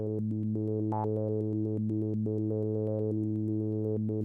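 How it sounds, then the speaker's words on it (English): Synthesizer sample-and-hold module stepping a high-resonance filter through random cutoff jumps over a steady low drone, a continuous tone whose bright harmonics lurch to new positions at a rapid clocked rhythm with no pauses. "We can hear its effect on a filter with high resonance level"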